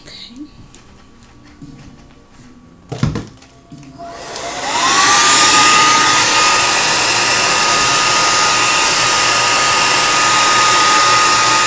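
Handheld hair dryer blow drying natural curly hair, switching on with a rising whine after a brief bump, then a loud steady roar of blowing air that continues to the end; a few soft sounds precede it.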